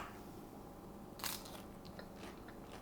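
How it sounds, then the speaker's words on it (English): A single crisp bite into a fried potato samosa with chutney, one sharp close crunch followed by a few softer crackles of chewing, quiet surroundings otherwise. "What we're really looking for here is this kind of crunch factor."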